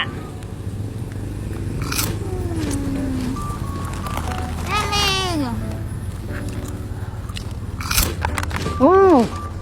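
Someone bites and chews a Mexican bun up close, with crunchy bites and mouth sounds amid voices talking in Khmer and a few bright squeals.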